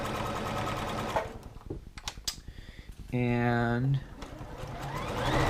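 A Juki F600 sewing machine stitches at about half speed in a short, even whirring burst in the middle, with a person talking before and after it.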